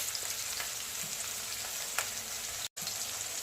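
Rice pilaf ingredients for a potato and pea pulao, with turmeric added, frying in a pan with a steady, close sizzle throughout and a brief dropout near the end.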